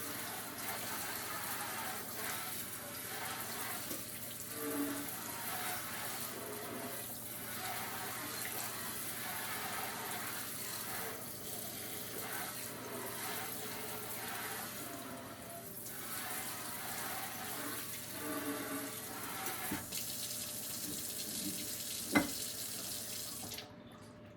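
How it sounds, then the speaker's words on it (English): A kitchen tap runs steadily into a sink as it is rinsed out, giving a constant, close, moderately loud splashing flow that continues without pause, with a faint clink near the end. "And I'll rinse the sink out and drain that macaroni in this."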